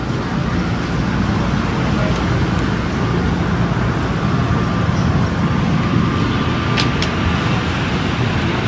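A passenger train pulls into a station platform with a steady, loud, even rumble of rolling wagons and a faint high squeal near the end.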